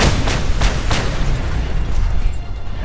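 Explosions in the video game Just Cause 2 burst in quick succession, a dense, rumbling barrage of booms and crackling pops that stays loud throughout, with no voices.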